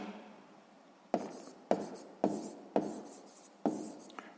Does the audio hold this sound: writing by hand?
yes